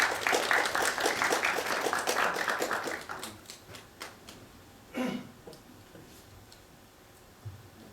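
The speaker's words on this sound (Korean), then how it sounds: "큰 박수로 맞아주시기 바랍니다." An audience at an LG product launch for Cinema 3D monitors applauds in a brisk burst of clapping that thins out after a few seconds into scattered claps, with faint murmuring beneath.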